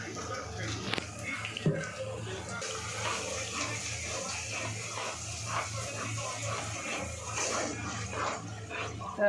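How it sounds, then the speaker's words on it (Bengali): Spice-rinse water is poured into masala frying with Kashmiri chili for paneer rezala, making a splashing, bubbling wash of sound. A voice speaks over it. "এই যে মশলা ধোয়ার জলটা একটু দিয়ে দিচ্ছি"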